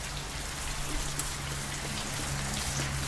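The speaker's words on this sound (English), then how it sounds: "I didn't want the rain to pick up as hard, but it is what it is." Steady rain falls outdoors beside a garage workspace where a 1987 Toyota 4Runner 22RE engine is being torn down and cleaned, a dense, even hiss of drops on surfaces continuing without pause.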